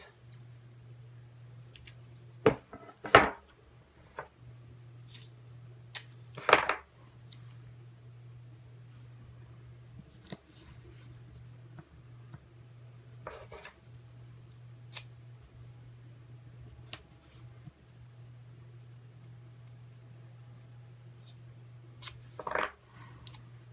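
Scissors cut craft material for a Christmas craft, a few sharp snips spaced seconds apart over a steady low hum, fairly quiet and close, with no talking.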